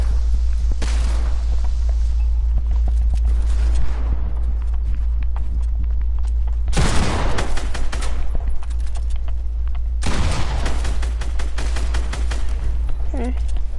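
Video game gunfire, two long loud bursts of rapid automatic shots separated by quieter stretches of scattered shots over a constant low rumble.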